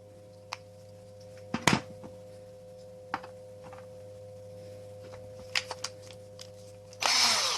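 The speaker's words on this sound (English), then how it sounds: "Take your 4x40 drill bit and drill your trigger." Power drill with a 4x40 bit boring into a game controller trigger for adjustable triggers: a few short sharp bursts scattered through, then a loud sustained whir near the end.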